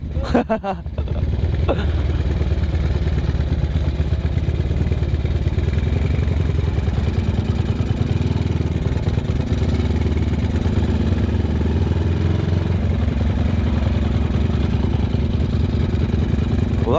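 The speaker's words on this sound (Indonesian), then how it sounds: "Ya ini si Tiger Naked mesinnya di setel ekstrim ya." A Honda Tiger Naked motorcycle engine with an extreme tune idles close by, a steady throbbing, slightly clattery putter that holds evenly throughout after a brief clunk at the start.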